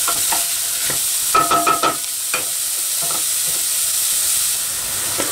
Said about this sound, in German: Das lasse ich jetzt etwa 2 bis 3 Minuten anbraten.